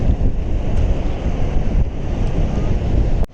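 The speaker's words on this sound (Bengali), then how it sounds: "সমুদ্রের এই ঢেউ" Sea waves on the beach at Puri in the afternoon, a loud, continuous roar of surf mixed with heavy wind buffeting close to the microphone.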